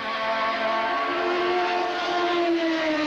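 A 1983 Formula 2 race car engine at Suzuka screams at high, steady revs for about three seconds, its loud continuous note sliding slowly in pitch, with no talk over it.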